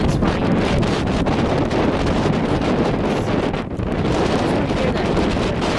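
A plane takes off at Aurora Municipal Airport, its engine roar a broad, steady rush that stays loud throughout, muddied by heavy wind buffeting on the microphone.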